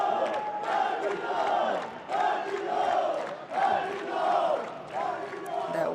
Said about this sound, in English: A lot of booing coming from the checkmat crowd.